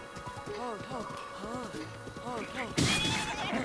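A horse neighing in The Legend of Zelda, repeated whinnies in quick rising-and-falling bursts with soft hoof clip-clops, fairly close, followed by a sharp burst of noise near the end.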